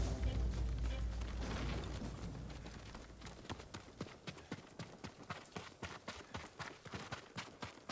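After a low rumbling start, horse hooves from the video game Ghost of Tsushima clip-clop in a quickening rhythmic patter, fairly close and steady.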